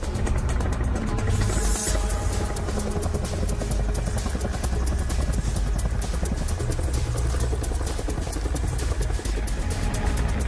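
A military aircraft, likely a helicopter, flies over a mountainous training area with gusty winds. Its rotor and engine make a loud, continuous chopping roar throughout, with no voices.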